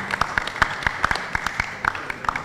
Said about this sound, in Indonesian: saya kira kita beri aplaus dulu